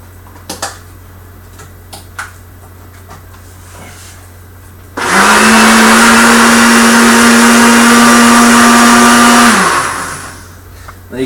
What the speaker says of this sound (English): So you put this on the blender and just mix it up a little bit.